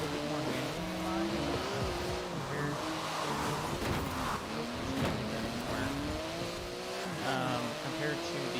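A race car set up for handling, driven in Forza Horizon 4, revs continuously with rising and falling engine pitch as it shifts and corners, loud and close, with occasional tire noise and a voice talking over it.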